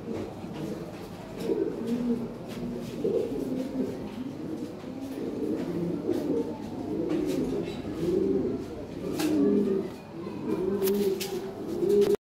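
A pair of white Lahori fancy pigeons coo steadily and repeatedly at close range, their low rolling calls overlapping throughout.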